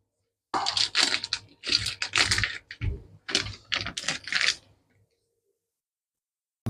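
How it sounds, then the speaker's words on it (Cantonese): Scissors snip open a supermarket smoked duck breast package in a run of short, crisp cutting and crinkling bursts close to the microphone, followed by silence. "用鉸剪剪開"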